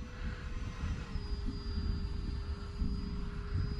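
An X-Fly Sirius RC jet fitted with a KM afterburner flies takeoff laps, producing a steady distant turbine roar with a thin high whine that shifts in pitch as it passes.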